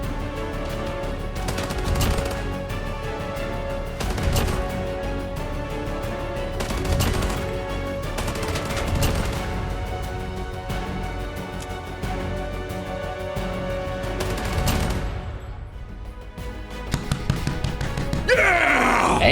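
AEK rifle fire in the video game Arena Breakout, repeated bursts of close, loud gunshots in quick succession with brief pauses between them, over a dense layer of game ambience and music.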